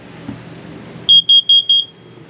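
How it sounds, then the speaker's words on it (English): A carbon monoxide alarm in a 2015 Keystone Summerland travel trailer gives a quick series of sharp, high-pitched electronic beeps, evenly spaced and loud, against a quiet room. "Straight up from there you get your carbon monoxide alarm. So that'll go another couple times."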